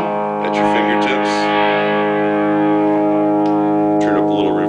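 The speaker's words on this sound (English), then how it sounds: "Distortion at your fingertips." A sustained, heavily distorted electric guitar chord from a Gibson Firebird X rings out loud and close, with brief pick scrapes and a voice speaking over it.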